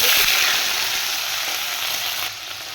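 Drumstick, potato and pumpkin pieces dropped into hot spiced oil, a loud bright hiss that starts strong and eases slightly, then drops abruptly near the end, heard close and with no talk.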